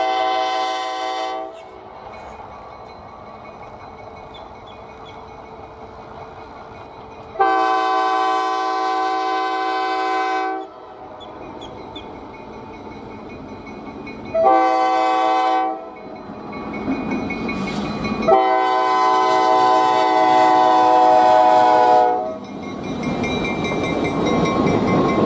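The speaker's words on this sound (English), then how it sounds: "The Santa train was being towed in reverse by one of U.S. Sugar's newest locomotives" A U.S. Sugar EMD GP38-2 diesel locomotive's horn blares in several long blasts with short gaps, over the steady rumble and clatter of the passing train it tows in reverse.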